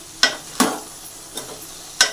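A spoon scrapes through a Telangana-style radish pickle mixture with turmeric and salt, four quick, close stirring strokes with quiet pauses between them.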